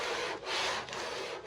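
A sanding block rubs back and forth across a car body panel coated in epoxy primer, making a close, steady rasping scrape in three strokes with brief dips between them.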